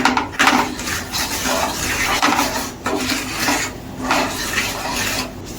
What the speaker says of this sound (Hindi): इसी में पिसा हुआ मसाला को डाल देंगे, इसे भी मिक्स कर लेंगे इस तरह से।